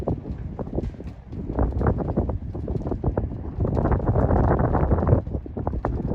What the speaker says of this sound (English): the wind is blowing so hard that it wasn't even coating the ground